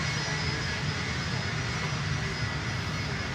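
An American Airlines jet landing on runway 9 at Miami Airport produces a steady, loud, broadband engine roar with a high whine on top, unbroken from start to finish and without speech.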